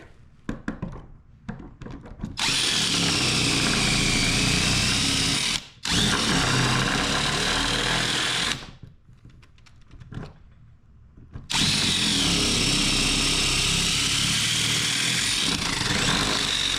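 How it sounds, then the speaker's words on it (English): A power drill whines loudly in long sustained bursts while drilling overlapping holes in metal for a rooftop solar shower mounting bracket, with short pauses and clunks between passes. "then what we'll do is we'll use the drill to break out in between all"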